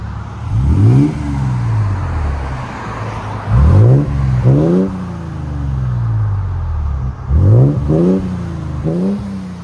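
A 2022-2026 Toyota Tundra with a 3.4L twin-turbo V6 and Borla aftermarket exhaust revs in repeated sharp bursts, single and paired blips over a deep idle rumble, loud and close.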